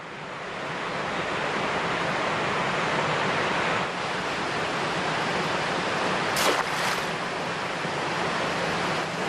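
Pristine Tera river in Sanabria, Castile, flowing as a steady broadband rush of water, close and continuous, with a brief brighter splash or gust partway through and no voices.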